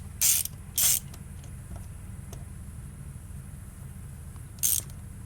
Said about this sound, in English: So got an 8mm here and here. Pull these two bolts out.